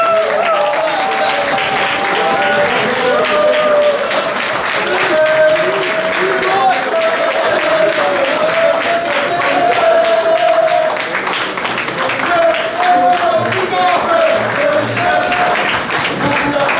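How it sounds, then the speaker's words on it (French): Sustained audience applause fills a hall at an eighth-anniversary celebration of a French federation, loud and steady throughout with crowd voices and cheering mixed in, never dropping out. "vos applaudissements."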